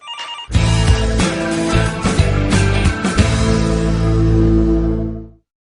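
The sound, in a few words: telephone ringing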